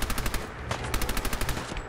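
A Thompson submachine gun firing in Fallout 4, a rapid burst of evenly spaced shots that runs for about two seconds, loud and close, with no talking.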